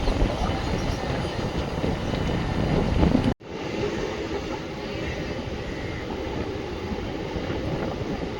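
A MEMU express train running from KGF to Bengaluru, a loud continuous rumble of wheels with clickety-clack and wind buffeting, briefly cut by a sharp drop before the rolling noise resumes.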